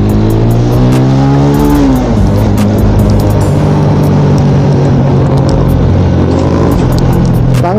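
A motorcycle with an automatic transmission rides at speed along a wide road near Magat Dam, its engine droning loud and steady throughout, with the pitch rising and falling as the throttle changes.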